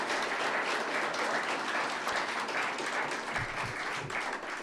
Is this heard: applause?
yes